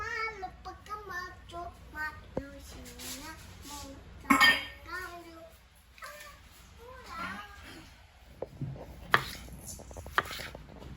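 A knife slicing a jalapeno on a cutting board for Korean army base stew, a handful of sharp, scattered taps heard close under ongoing talk.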